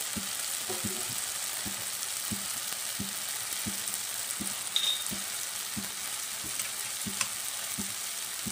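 Thai chili sauce sizzling in a pan with tomato for prawn sambal, a steady close frying hiss punctuated by regular soft stirring taps of a utensil against the pan.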